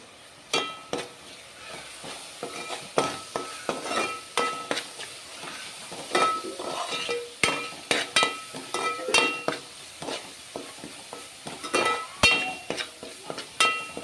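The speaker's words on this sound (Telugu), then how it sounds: "ఈ ఉప్పు, కారము ఇవన్నీ మంచిగా నూనెలో మంచిగా వేగాలండి" Salt, chili powder and masala spices sizzle in hot oil for a traditional fish curry, with steady frying hiss punctuated by repeated sharp clinks and scrapes of a spoon stirring against the pan.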